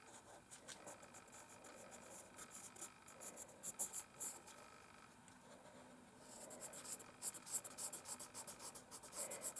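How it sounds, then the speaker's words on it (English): A pencil pressed hard across slightly damp watercolor paper, drawing leaf shapes, gives a close, steady scratching and rubbing with short strokes and pauses, growing busier and denser toward the end. "when you go really hard, as I'm doing now, on slightly damp paper"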